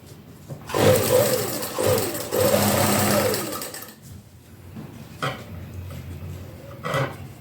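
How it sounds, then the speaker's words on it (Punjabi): An electric sewing machine runs a basting stitch along a round neckline in one steady, close whirring burst of about three seconds, then stops, leaving a few faint clicks and handling noises. "ਆਪਾਂ ਉੱਪਰੋਂ ਪਹਿਲਾਂ ਕੱਚੀ ਸਲਾਈ ਲਾ ਲੈਣੀ"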